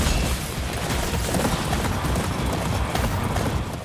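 Horse hooves in the video game Attack on Titan 2 clatter in a dense, continuous galloping rhythm, loud and close, with no talking over them.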